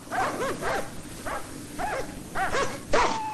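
Animated dogs in a fairy-tale cartoon bark and whimper in a steady series of short yelps and whines, close and clear with no talk over them.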